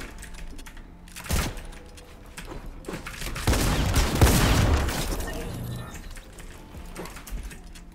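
Gunfire in Fortnite: several sharp shots burst out in quick clusters, louder around the middle, amid game noise and clicky mechanical sounds with no talking.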